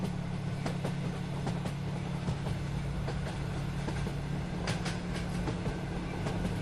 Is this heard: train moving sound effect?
yes